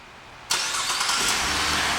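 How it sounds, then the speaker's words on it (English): A 2013 Buick LaCrosse sedan starts by remote start: after a quiet moment the engine catches abruptly and settles into a steady, loud idle that continues to the end. "One of the many features in this vehicle is a remote start, and I'll show you how that goes."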